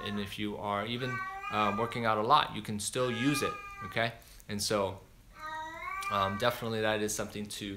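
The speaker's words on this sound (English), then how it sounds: "apologize for the cat" A cat meows several times indoors, its drawn-out cries interleaved with and partly overlapping someone speaking steadily close to the microphone.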